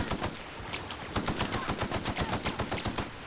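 Rapid automatic gunfire in The Outer Worlds as a sentry is shot: a loud, dense string of closely spaced shots in a steady, driving rhythm that lasts throughout.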